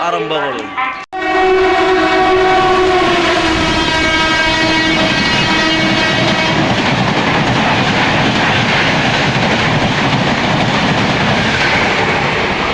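The Guwahati Express sounds a loud horn at a station, then a long, steady rumble and clatter of the train carries on, loud and near.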